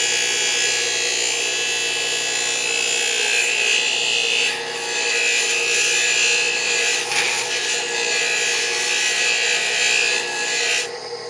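An electric glass grinder with a diamond bit smoothing the edge of a stained glass piece for a suncatcher, giving a continuous high whine and gritty grinding, steady and close, with brief shifts as the glass is pressed.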